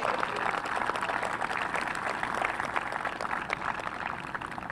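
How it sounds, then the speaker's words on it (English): Audience applause at the grand opening of the Sailfish Sands golf facility: a sustained crowd of many hands clapping, moderately loud and even throughout, with scattered sharper claps standing out. "So let's give them all a big round of applause right now for everybody involved."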